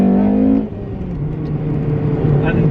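Honda S2000 or Civic Type R FD2 pulling hard in first gear, the engine note rising and fading under someone talking at the start.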